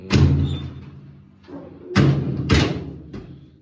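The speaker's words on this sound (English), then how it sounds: "think I gotta adjust this" A door being adjusted, swung and shut: several loud knocks and thumps with sharp slams, close by, with no talk over them.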